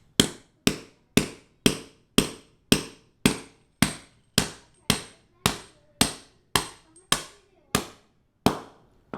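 Evenly paced, hard hammer blows driving anchor bolts into a concrete garage floor while a Max Jax car lift is installed, about sixteen close, ringing strikes with short decays and nothing else between them.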